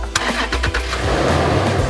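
A car engine cranks and fires immediately after being jump-started with a CarQue portable starter, catching within a fraction of a second and settling into a steady, loud idle.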